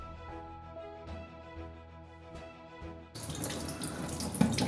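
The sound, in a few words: water running from tap while washing eggs with soap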